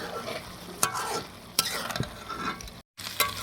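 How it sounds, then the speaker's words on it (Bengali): Beef liver and potatoes frying in spices, a soft continuous sizzle broken by several sharp spoon scrapes and knocks against the pan, fairly quiet with a brief dropout near the end. "আলুটাকে আমি কিছুক্ষণ এই কলিজার সঙ্গে কষিয়ে নেব।"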